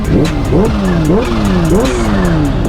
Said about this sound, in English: once you start to build some boost in this engine